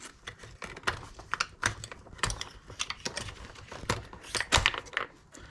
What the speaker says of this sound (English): we can now jiggle out the top diff casing